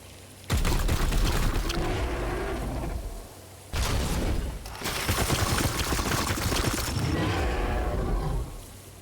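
Gunfire rings out in the turn-based strategy game Warhammer 40,000: Chaos Gate - Daemonhunters, two loud roaring bursts of shooting with booming impacts, each sustained for several seconds and heard alone without talk.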